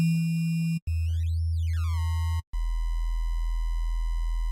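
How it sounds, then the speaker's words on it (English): A synthesizer plays a loud, simple sine-wave tone: a steady low hum, a brief cut, a rising and falling sweep, then a sustained deep tone after another short gap. "like a simple sine wave"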